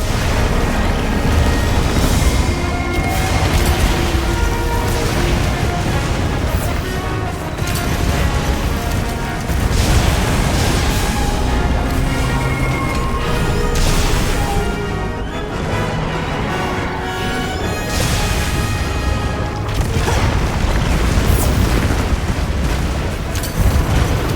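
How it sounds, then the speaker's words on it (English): An anti-wyvern gun fires during a Monster Hunter battle against Gogmazios, a dense, continuous stretch of loud booms and explosions layered with music and battle noise. "Using the anti-wyvern gun!"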